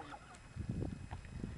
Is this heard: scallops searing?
no